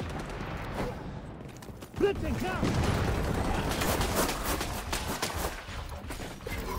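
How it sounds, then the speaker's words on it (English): A grenade goes off in XDefiant during an Escort match, a sharp blast followed by a sustained rattle of gunfire and game effects with a player talking throughout. "That's a grenade."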